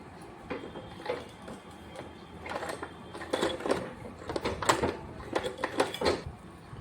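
A domestic sewing machine stitches across the corners of a homemade cloth lunch bag, sounding as irregular bursts of rapid mechanical clatter that grow denser and louder toward the end, with no voices.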